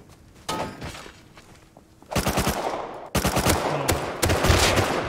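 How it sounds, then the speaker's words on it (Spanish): Gunfire in a Call of Duty match: loud rapid bursts of automatic weapon fire rattle out close by in several volleys, with sharp impacts between them and no talking. "Van a escuchar nuestros disparos."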